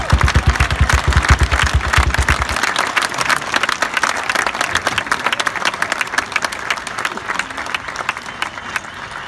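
Audience at a 2019 high school graduation ceremony applauds the graduates with loud, sustained clapping and some cheering, filling the whole stretch without a break.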